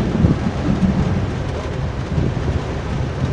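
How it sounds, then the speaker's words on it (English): Loud thunder rolls through a storm with heavy rain, a dense, sustained rumble that fills the whole moment, close and powerful, with no talking. "That was a loud roll of thunder."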